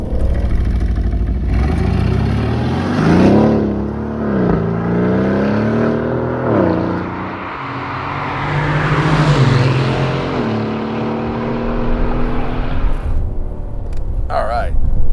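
An Aston Martin Vantage F1 Edition sports car accelerating on the road, heard from inside the cabin, its engine revving up through several gear shifts with rising and falling pitch, loud and close, while people talk over it.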